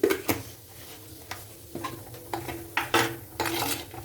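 Vegetables frying in a pot being salted, with a series of light metallic clinks and scrapes of a utensil against the pot, irregular and close, over a faint background hiss.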